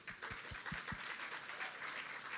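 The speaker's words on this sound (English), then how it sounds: "I would like to give applause, please, everybody, for them." Audience applause at a business breakfast event, steady dense clapping from a room of people with a few louder claps near the start, sustained and fairly even throughout.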